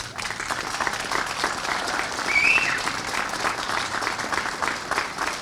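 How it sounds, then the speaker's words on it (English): A crowd at an outdoor plaza ribbon cutting applauds steadily and loudly for Tara Bradshaw, dense clapping holding an even level throughout with a slight swell near the middle. "I don't know if we can clap long enough"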